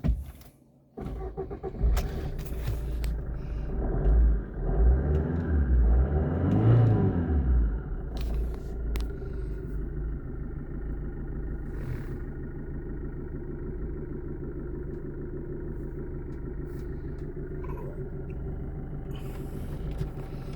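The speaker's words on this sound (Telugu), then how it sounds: "సో వెహికల్ స్టార్ట్ చేద్దాం ఒకసారి." A 2018 Maruti Vitara Brezza VDI with a 1.2-litre diesel engine cranks and catches, revs briefly with a deep rumble, then settles into a steady, close diesel idle.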